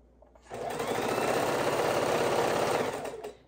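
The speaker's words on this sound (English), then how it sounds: "Sewing row one together" A sewing machine stitches a row of quilt pieces together in one steady, fast, rhythmic run of about three seconds, starting and stopping cleanly, close and loud with no speech.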